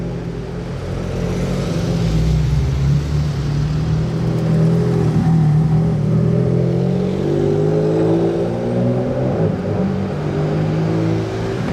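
A Ferrari Enzo supercar driving on the Monaco circuit, its engine a steady loud drone with rising and falling pitch throughout, close by and alone without talk.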